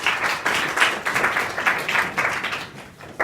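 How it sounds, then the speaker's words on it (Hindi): Schoolchildren in a classroom at a secondary school clap together, producing a dense, steady patter of many hands that lasts throughout, moderately loud and close, with no talking over it. "वेरी गुड, ताली बजाओ।"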